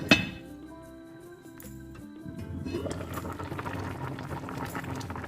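Chicken curry with winter melon and coconut milk boils in a covered pot, a steady bubbling simmer that rises after a quiet start and stays fairly close, with a brief clink at the beginning.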